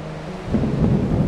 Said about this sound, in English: The sky was a dull grey, and the rain was pouring down. A storm was approaching.